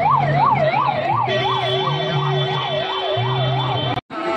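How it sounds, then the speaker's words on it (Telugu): An ambulance siren wails loud and near with a rapid, regular rising-and-falling pitch, a steady lower tone running beneath it, and a brief dropout just before the end. "అక్కడెక్కడ అంబులెన్స్ అయితే కూడా తిరుగుతున్నాయి ఇక్కడ"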